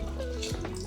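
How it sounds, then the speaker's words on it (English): Water being poured onto crushed garden berries and sugar for homemade wine, a short liquid splash and trickle over a steady low background hum. "we need to pour this water here to the crushed berries"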